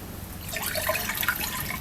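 Water is poured into a large wok set on a wood-fired stove, making a close, steady splashing rush that lasts under two seconds with no talking.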